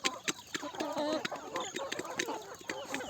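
Free-range country chickens on a farm cluck in short, irregular bursts, several birds calling close by over a quiet background.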